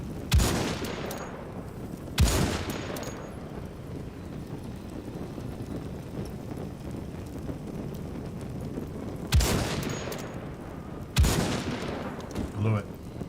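Gunshots ring out in the shooter Wolfenstein: The Old Blood, four loud sharp reports with echoing tails, spaced seconds apart over low game ambience.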